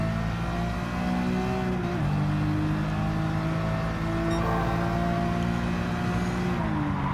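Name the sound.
car accelerating in video game Gran Turismo 7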